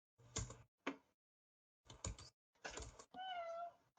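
A cat lets out one clear, drawn-out meow after a few short knocks and bumps separated by silence, close and fairly quiet.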